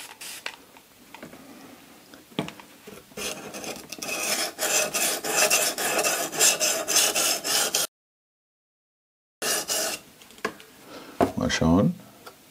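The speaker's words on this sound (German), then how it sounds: "ich habe jetzt gerade geschliffen, wie wenn ich mit Steinen schleifen würde" Rhythmic rasping strokes of a knife blade being ground on CBN stones on an Ermak 10 sharpener, close and repeated, broken by a brief silence and some talking.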